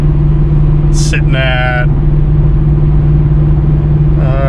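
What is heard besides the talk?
Pontiac G8 GT exhaust while cruising at 80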